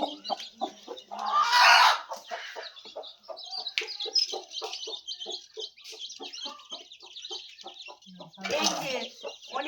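A hen clucks steadily among a brood of about thirteen newly hatched chicks, close by, with a louder squawking burst near the start and another near the end.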